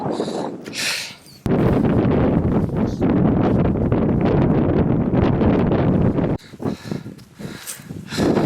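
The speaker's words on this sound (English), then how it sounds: "It's super windy, but we're almost there." Strong, steady wind on Mount Bierstadt, Colorado, roars and buffets loudly across the microphone, easing briefly before gusting hard again, with faint rustling in the lulls.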